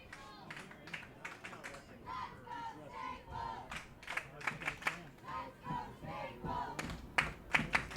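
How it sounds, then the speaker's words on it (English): Wreckers fans in a cheering section at a night high school field hockey semifinal between Staples and Darien, crowd shouts and chants rising in repeated loud bursts with a commentator talking over them. "A hearty Wreckers cheering section present tonight."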